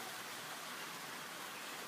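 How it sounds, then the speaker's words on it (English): Steady rain falls outside during a day of on-and-off showers, a faint, even hiss with no pauses and no voices. "it's been raining on and off most of the day"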